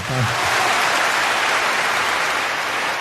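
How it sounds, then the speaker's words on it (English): An audience at a Pride-themed comedy show claps and applauds loudly and steadily for about three seconds, a dense wash of hand claps with no one speaking. "I like it better when you clap"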